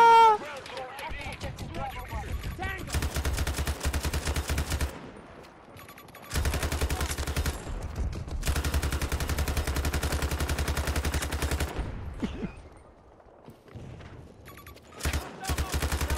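Type 88 light machine gun fire in the shooter Battlefield 2042, loud sustained automatic bursts broken by brief pauses and ending in short tapped bursts, with game noise and a voice speaking over it.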